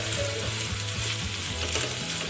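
Mixed vegetables being stirred in a pan, a steady sizzle with repeated scraping strokes of a spoon running throughout, close and fairly loud with no voices.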